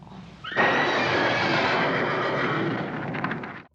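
A horse whinnies loudly in the Young Frankenstein horse gag, one long, shrill neigh that rises abruptly and holds for about three seconds before cutting off, close and dominant with no talk.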